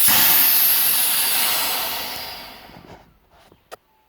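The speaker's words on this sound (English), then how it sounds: "And you'll get condensation and air coming out." Air and condensation hiss steadily out of the open drain valve on a Campbell Hausfeld air compressor tank, loud and broadband at first, then fading away over a few seconds, ending with a small click.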